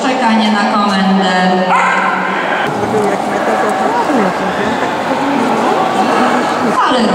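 Dog barking on command during a dog training show, short yips and barks over crowd noise and voices, with a person talking throughout.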